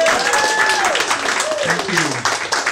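An audience applauding and cheering as poet St. Patrick steps up at a soul open-mic night, lively clapping mixed with whoops and shouts that ebb slightly toward the end.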